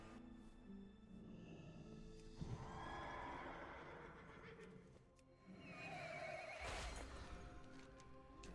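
The Invincible horse mount in World of Warcraft neighs twice, a few seconds apart, each time as a bright, shrill whinny. Soft hoof clatter and game ambience sit underneath, with no talk.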